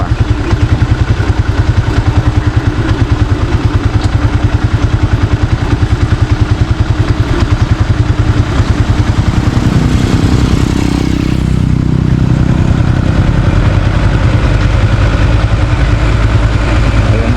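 A Kubota diesel tractor engine runs steadily at idle, loud and near, with a rhythmic clattering chug that shifts in tone partway through.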